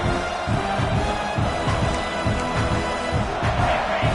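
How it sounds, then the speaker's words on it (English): A college football stadium crowd at Clemson versus South Carolina roars to back its defense, a steady, distant wall of cheering with no voices standing out. "Listen to this crowd just shaking the girders of this place, trying to help their defense."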